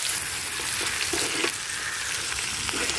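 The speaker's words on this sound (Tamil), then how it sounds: "ஒரு பக்கம் நல்லா வெந்துட்டுங்க, அடுத்த பக்கம் அப்படியே திருப்பி போட்டுடலாம்." Freshly caught river fish frying in a pan: close, loud, steady sizzling and bubbling crackle throughout, with faint stirring movement and no voices.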